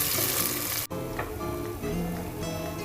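Onions dropped into hot ghee, a loud continuous sizzle and crackle that briefly cuts out, then settles into steady close frying.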